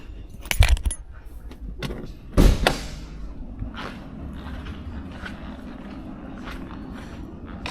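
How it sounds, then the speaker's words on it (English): Keys for a 1974 Pontiac Grandville jangle close by in a couple of sharp metallic bursts, with a steady low rumble and soft handling noises continuing afterward. "Let me go ahead and grab the keys."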